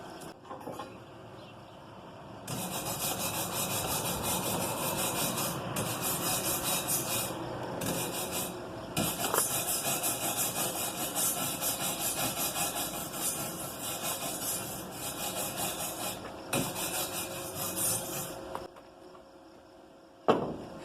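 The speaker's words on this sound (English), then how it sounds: "flip it back over and finish welding the other side" Welding on a steel ATV trailer frame built for hauling elk gear, a steady buzzing, crackling hiss that runs continuously for long stretches with brief pauses between beads, close and fairly loud with no talk.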